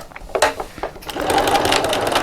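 A sewing machine top stitches along the short folded end of a fabric purse seam, starting with a few separate bursts and then settling into a steady, close, continuous run.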